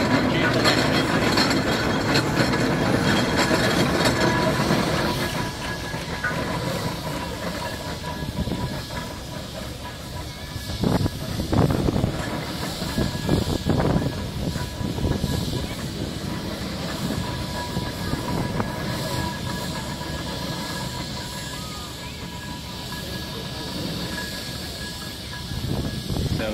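Steam engine rolling in at a steam rally, with a steady loud hiss of steam, rumbling rail clatter and scattered clanks that ease slightly after the first few seconds, plus faint background chatter.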